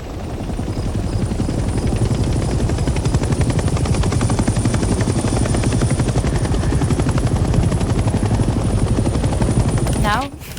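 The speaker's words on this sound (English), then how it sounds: "The helicopter will now take off automatically and remain in a hover state." A helicopter lifts off and holds a hover in the Vietnam war video game Hell Let Loose, its rotor chopping loud and steady with rapid rhythmic beats throughout before cutting off abruptly at the end.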